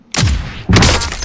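RPG rocket launcher fired in a military shooter game: a loud, close blast with a booming low thump, followed about half a second later by a second heavy burst that rumbles and trails off.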